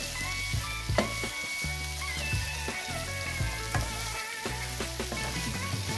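Green beans with garlic, butter and onions sizzle steadily in a pan, a constant loud frying hiss with occasional clinks and stirring knocks, no talk.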